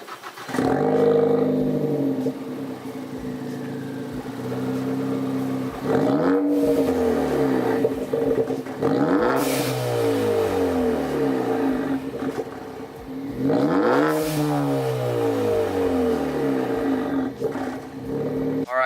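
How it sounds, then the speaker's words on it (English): A 2013–2016 Ford Focus ST with a Borla catback exhaust idles with a steady low drone, then revs up three times in rising and falling sweeps, loud and close from behind the car, with no talking. "Yeah, that's the Borla exhaust right there."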